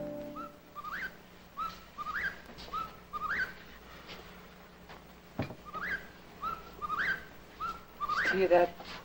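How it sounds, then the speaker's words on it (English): A bird repeats a rising, whistled call again and again at a steady rhythm, fairly close, with faint talk and a sharp knock partway through. "Hear that whippoorwill?"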